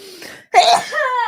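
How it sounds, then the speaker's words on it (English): A single sharp sneeze bursts out close to the microphone after a short breathy intake, followed by a brief voiced exhale. "Okay, I'm gonna sneeze."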